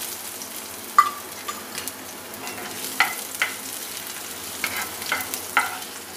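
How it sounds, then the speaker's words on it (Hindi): Chopped garlic and ginger sizzle softly and steadily in oil in a pan over very low heat, with a few faint clinks and scrapes of stirring. "अब मैं इसमें कटा लहसुन और ये अदरक डाल दूँगी।"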